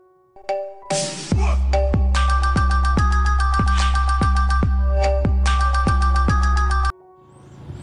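A phone plays a loud melodic ringtone with a steady beat and repeated electronic notes, running continuously for several seconds before it cuts off.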